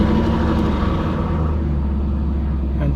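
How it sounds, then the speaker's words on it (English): The engine of a 2000 BMW M5 starts and settles into a loud, deep idle rumble close by. It runs steadily for a few seconds. "Engine started."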